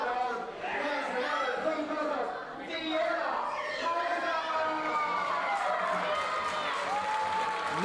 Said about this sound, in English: Nice respectful ovation there for Fiona Fraser.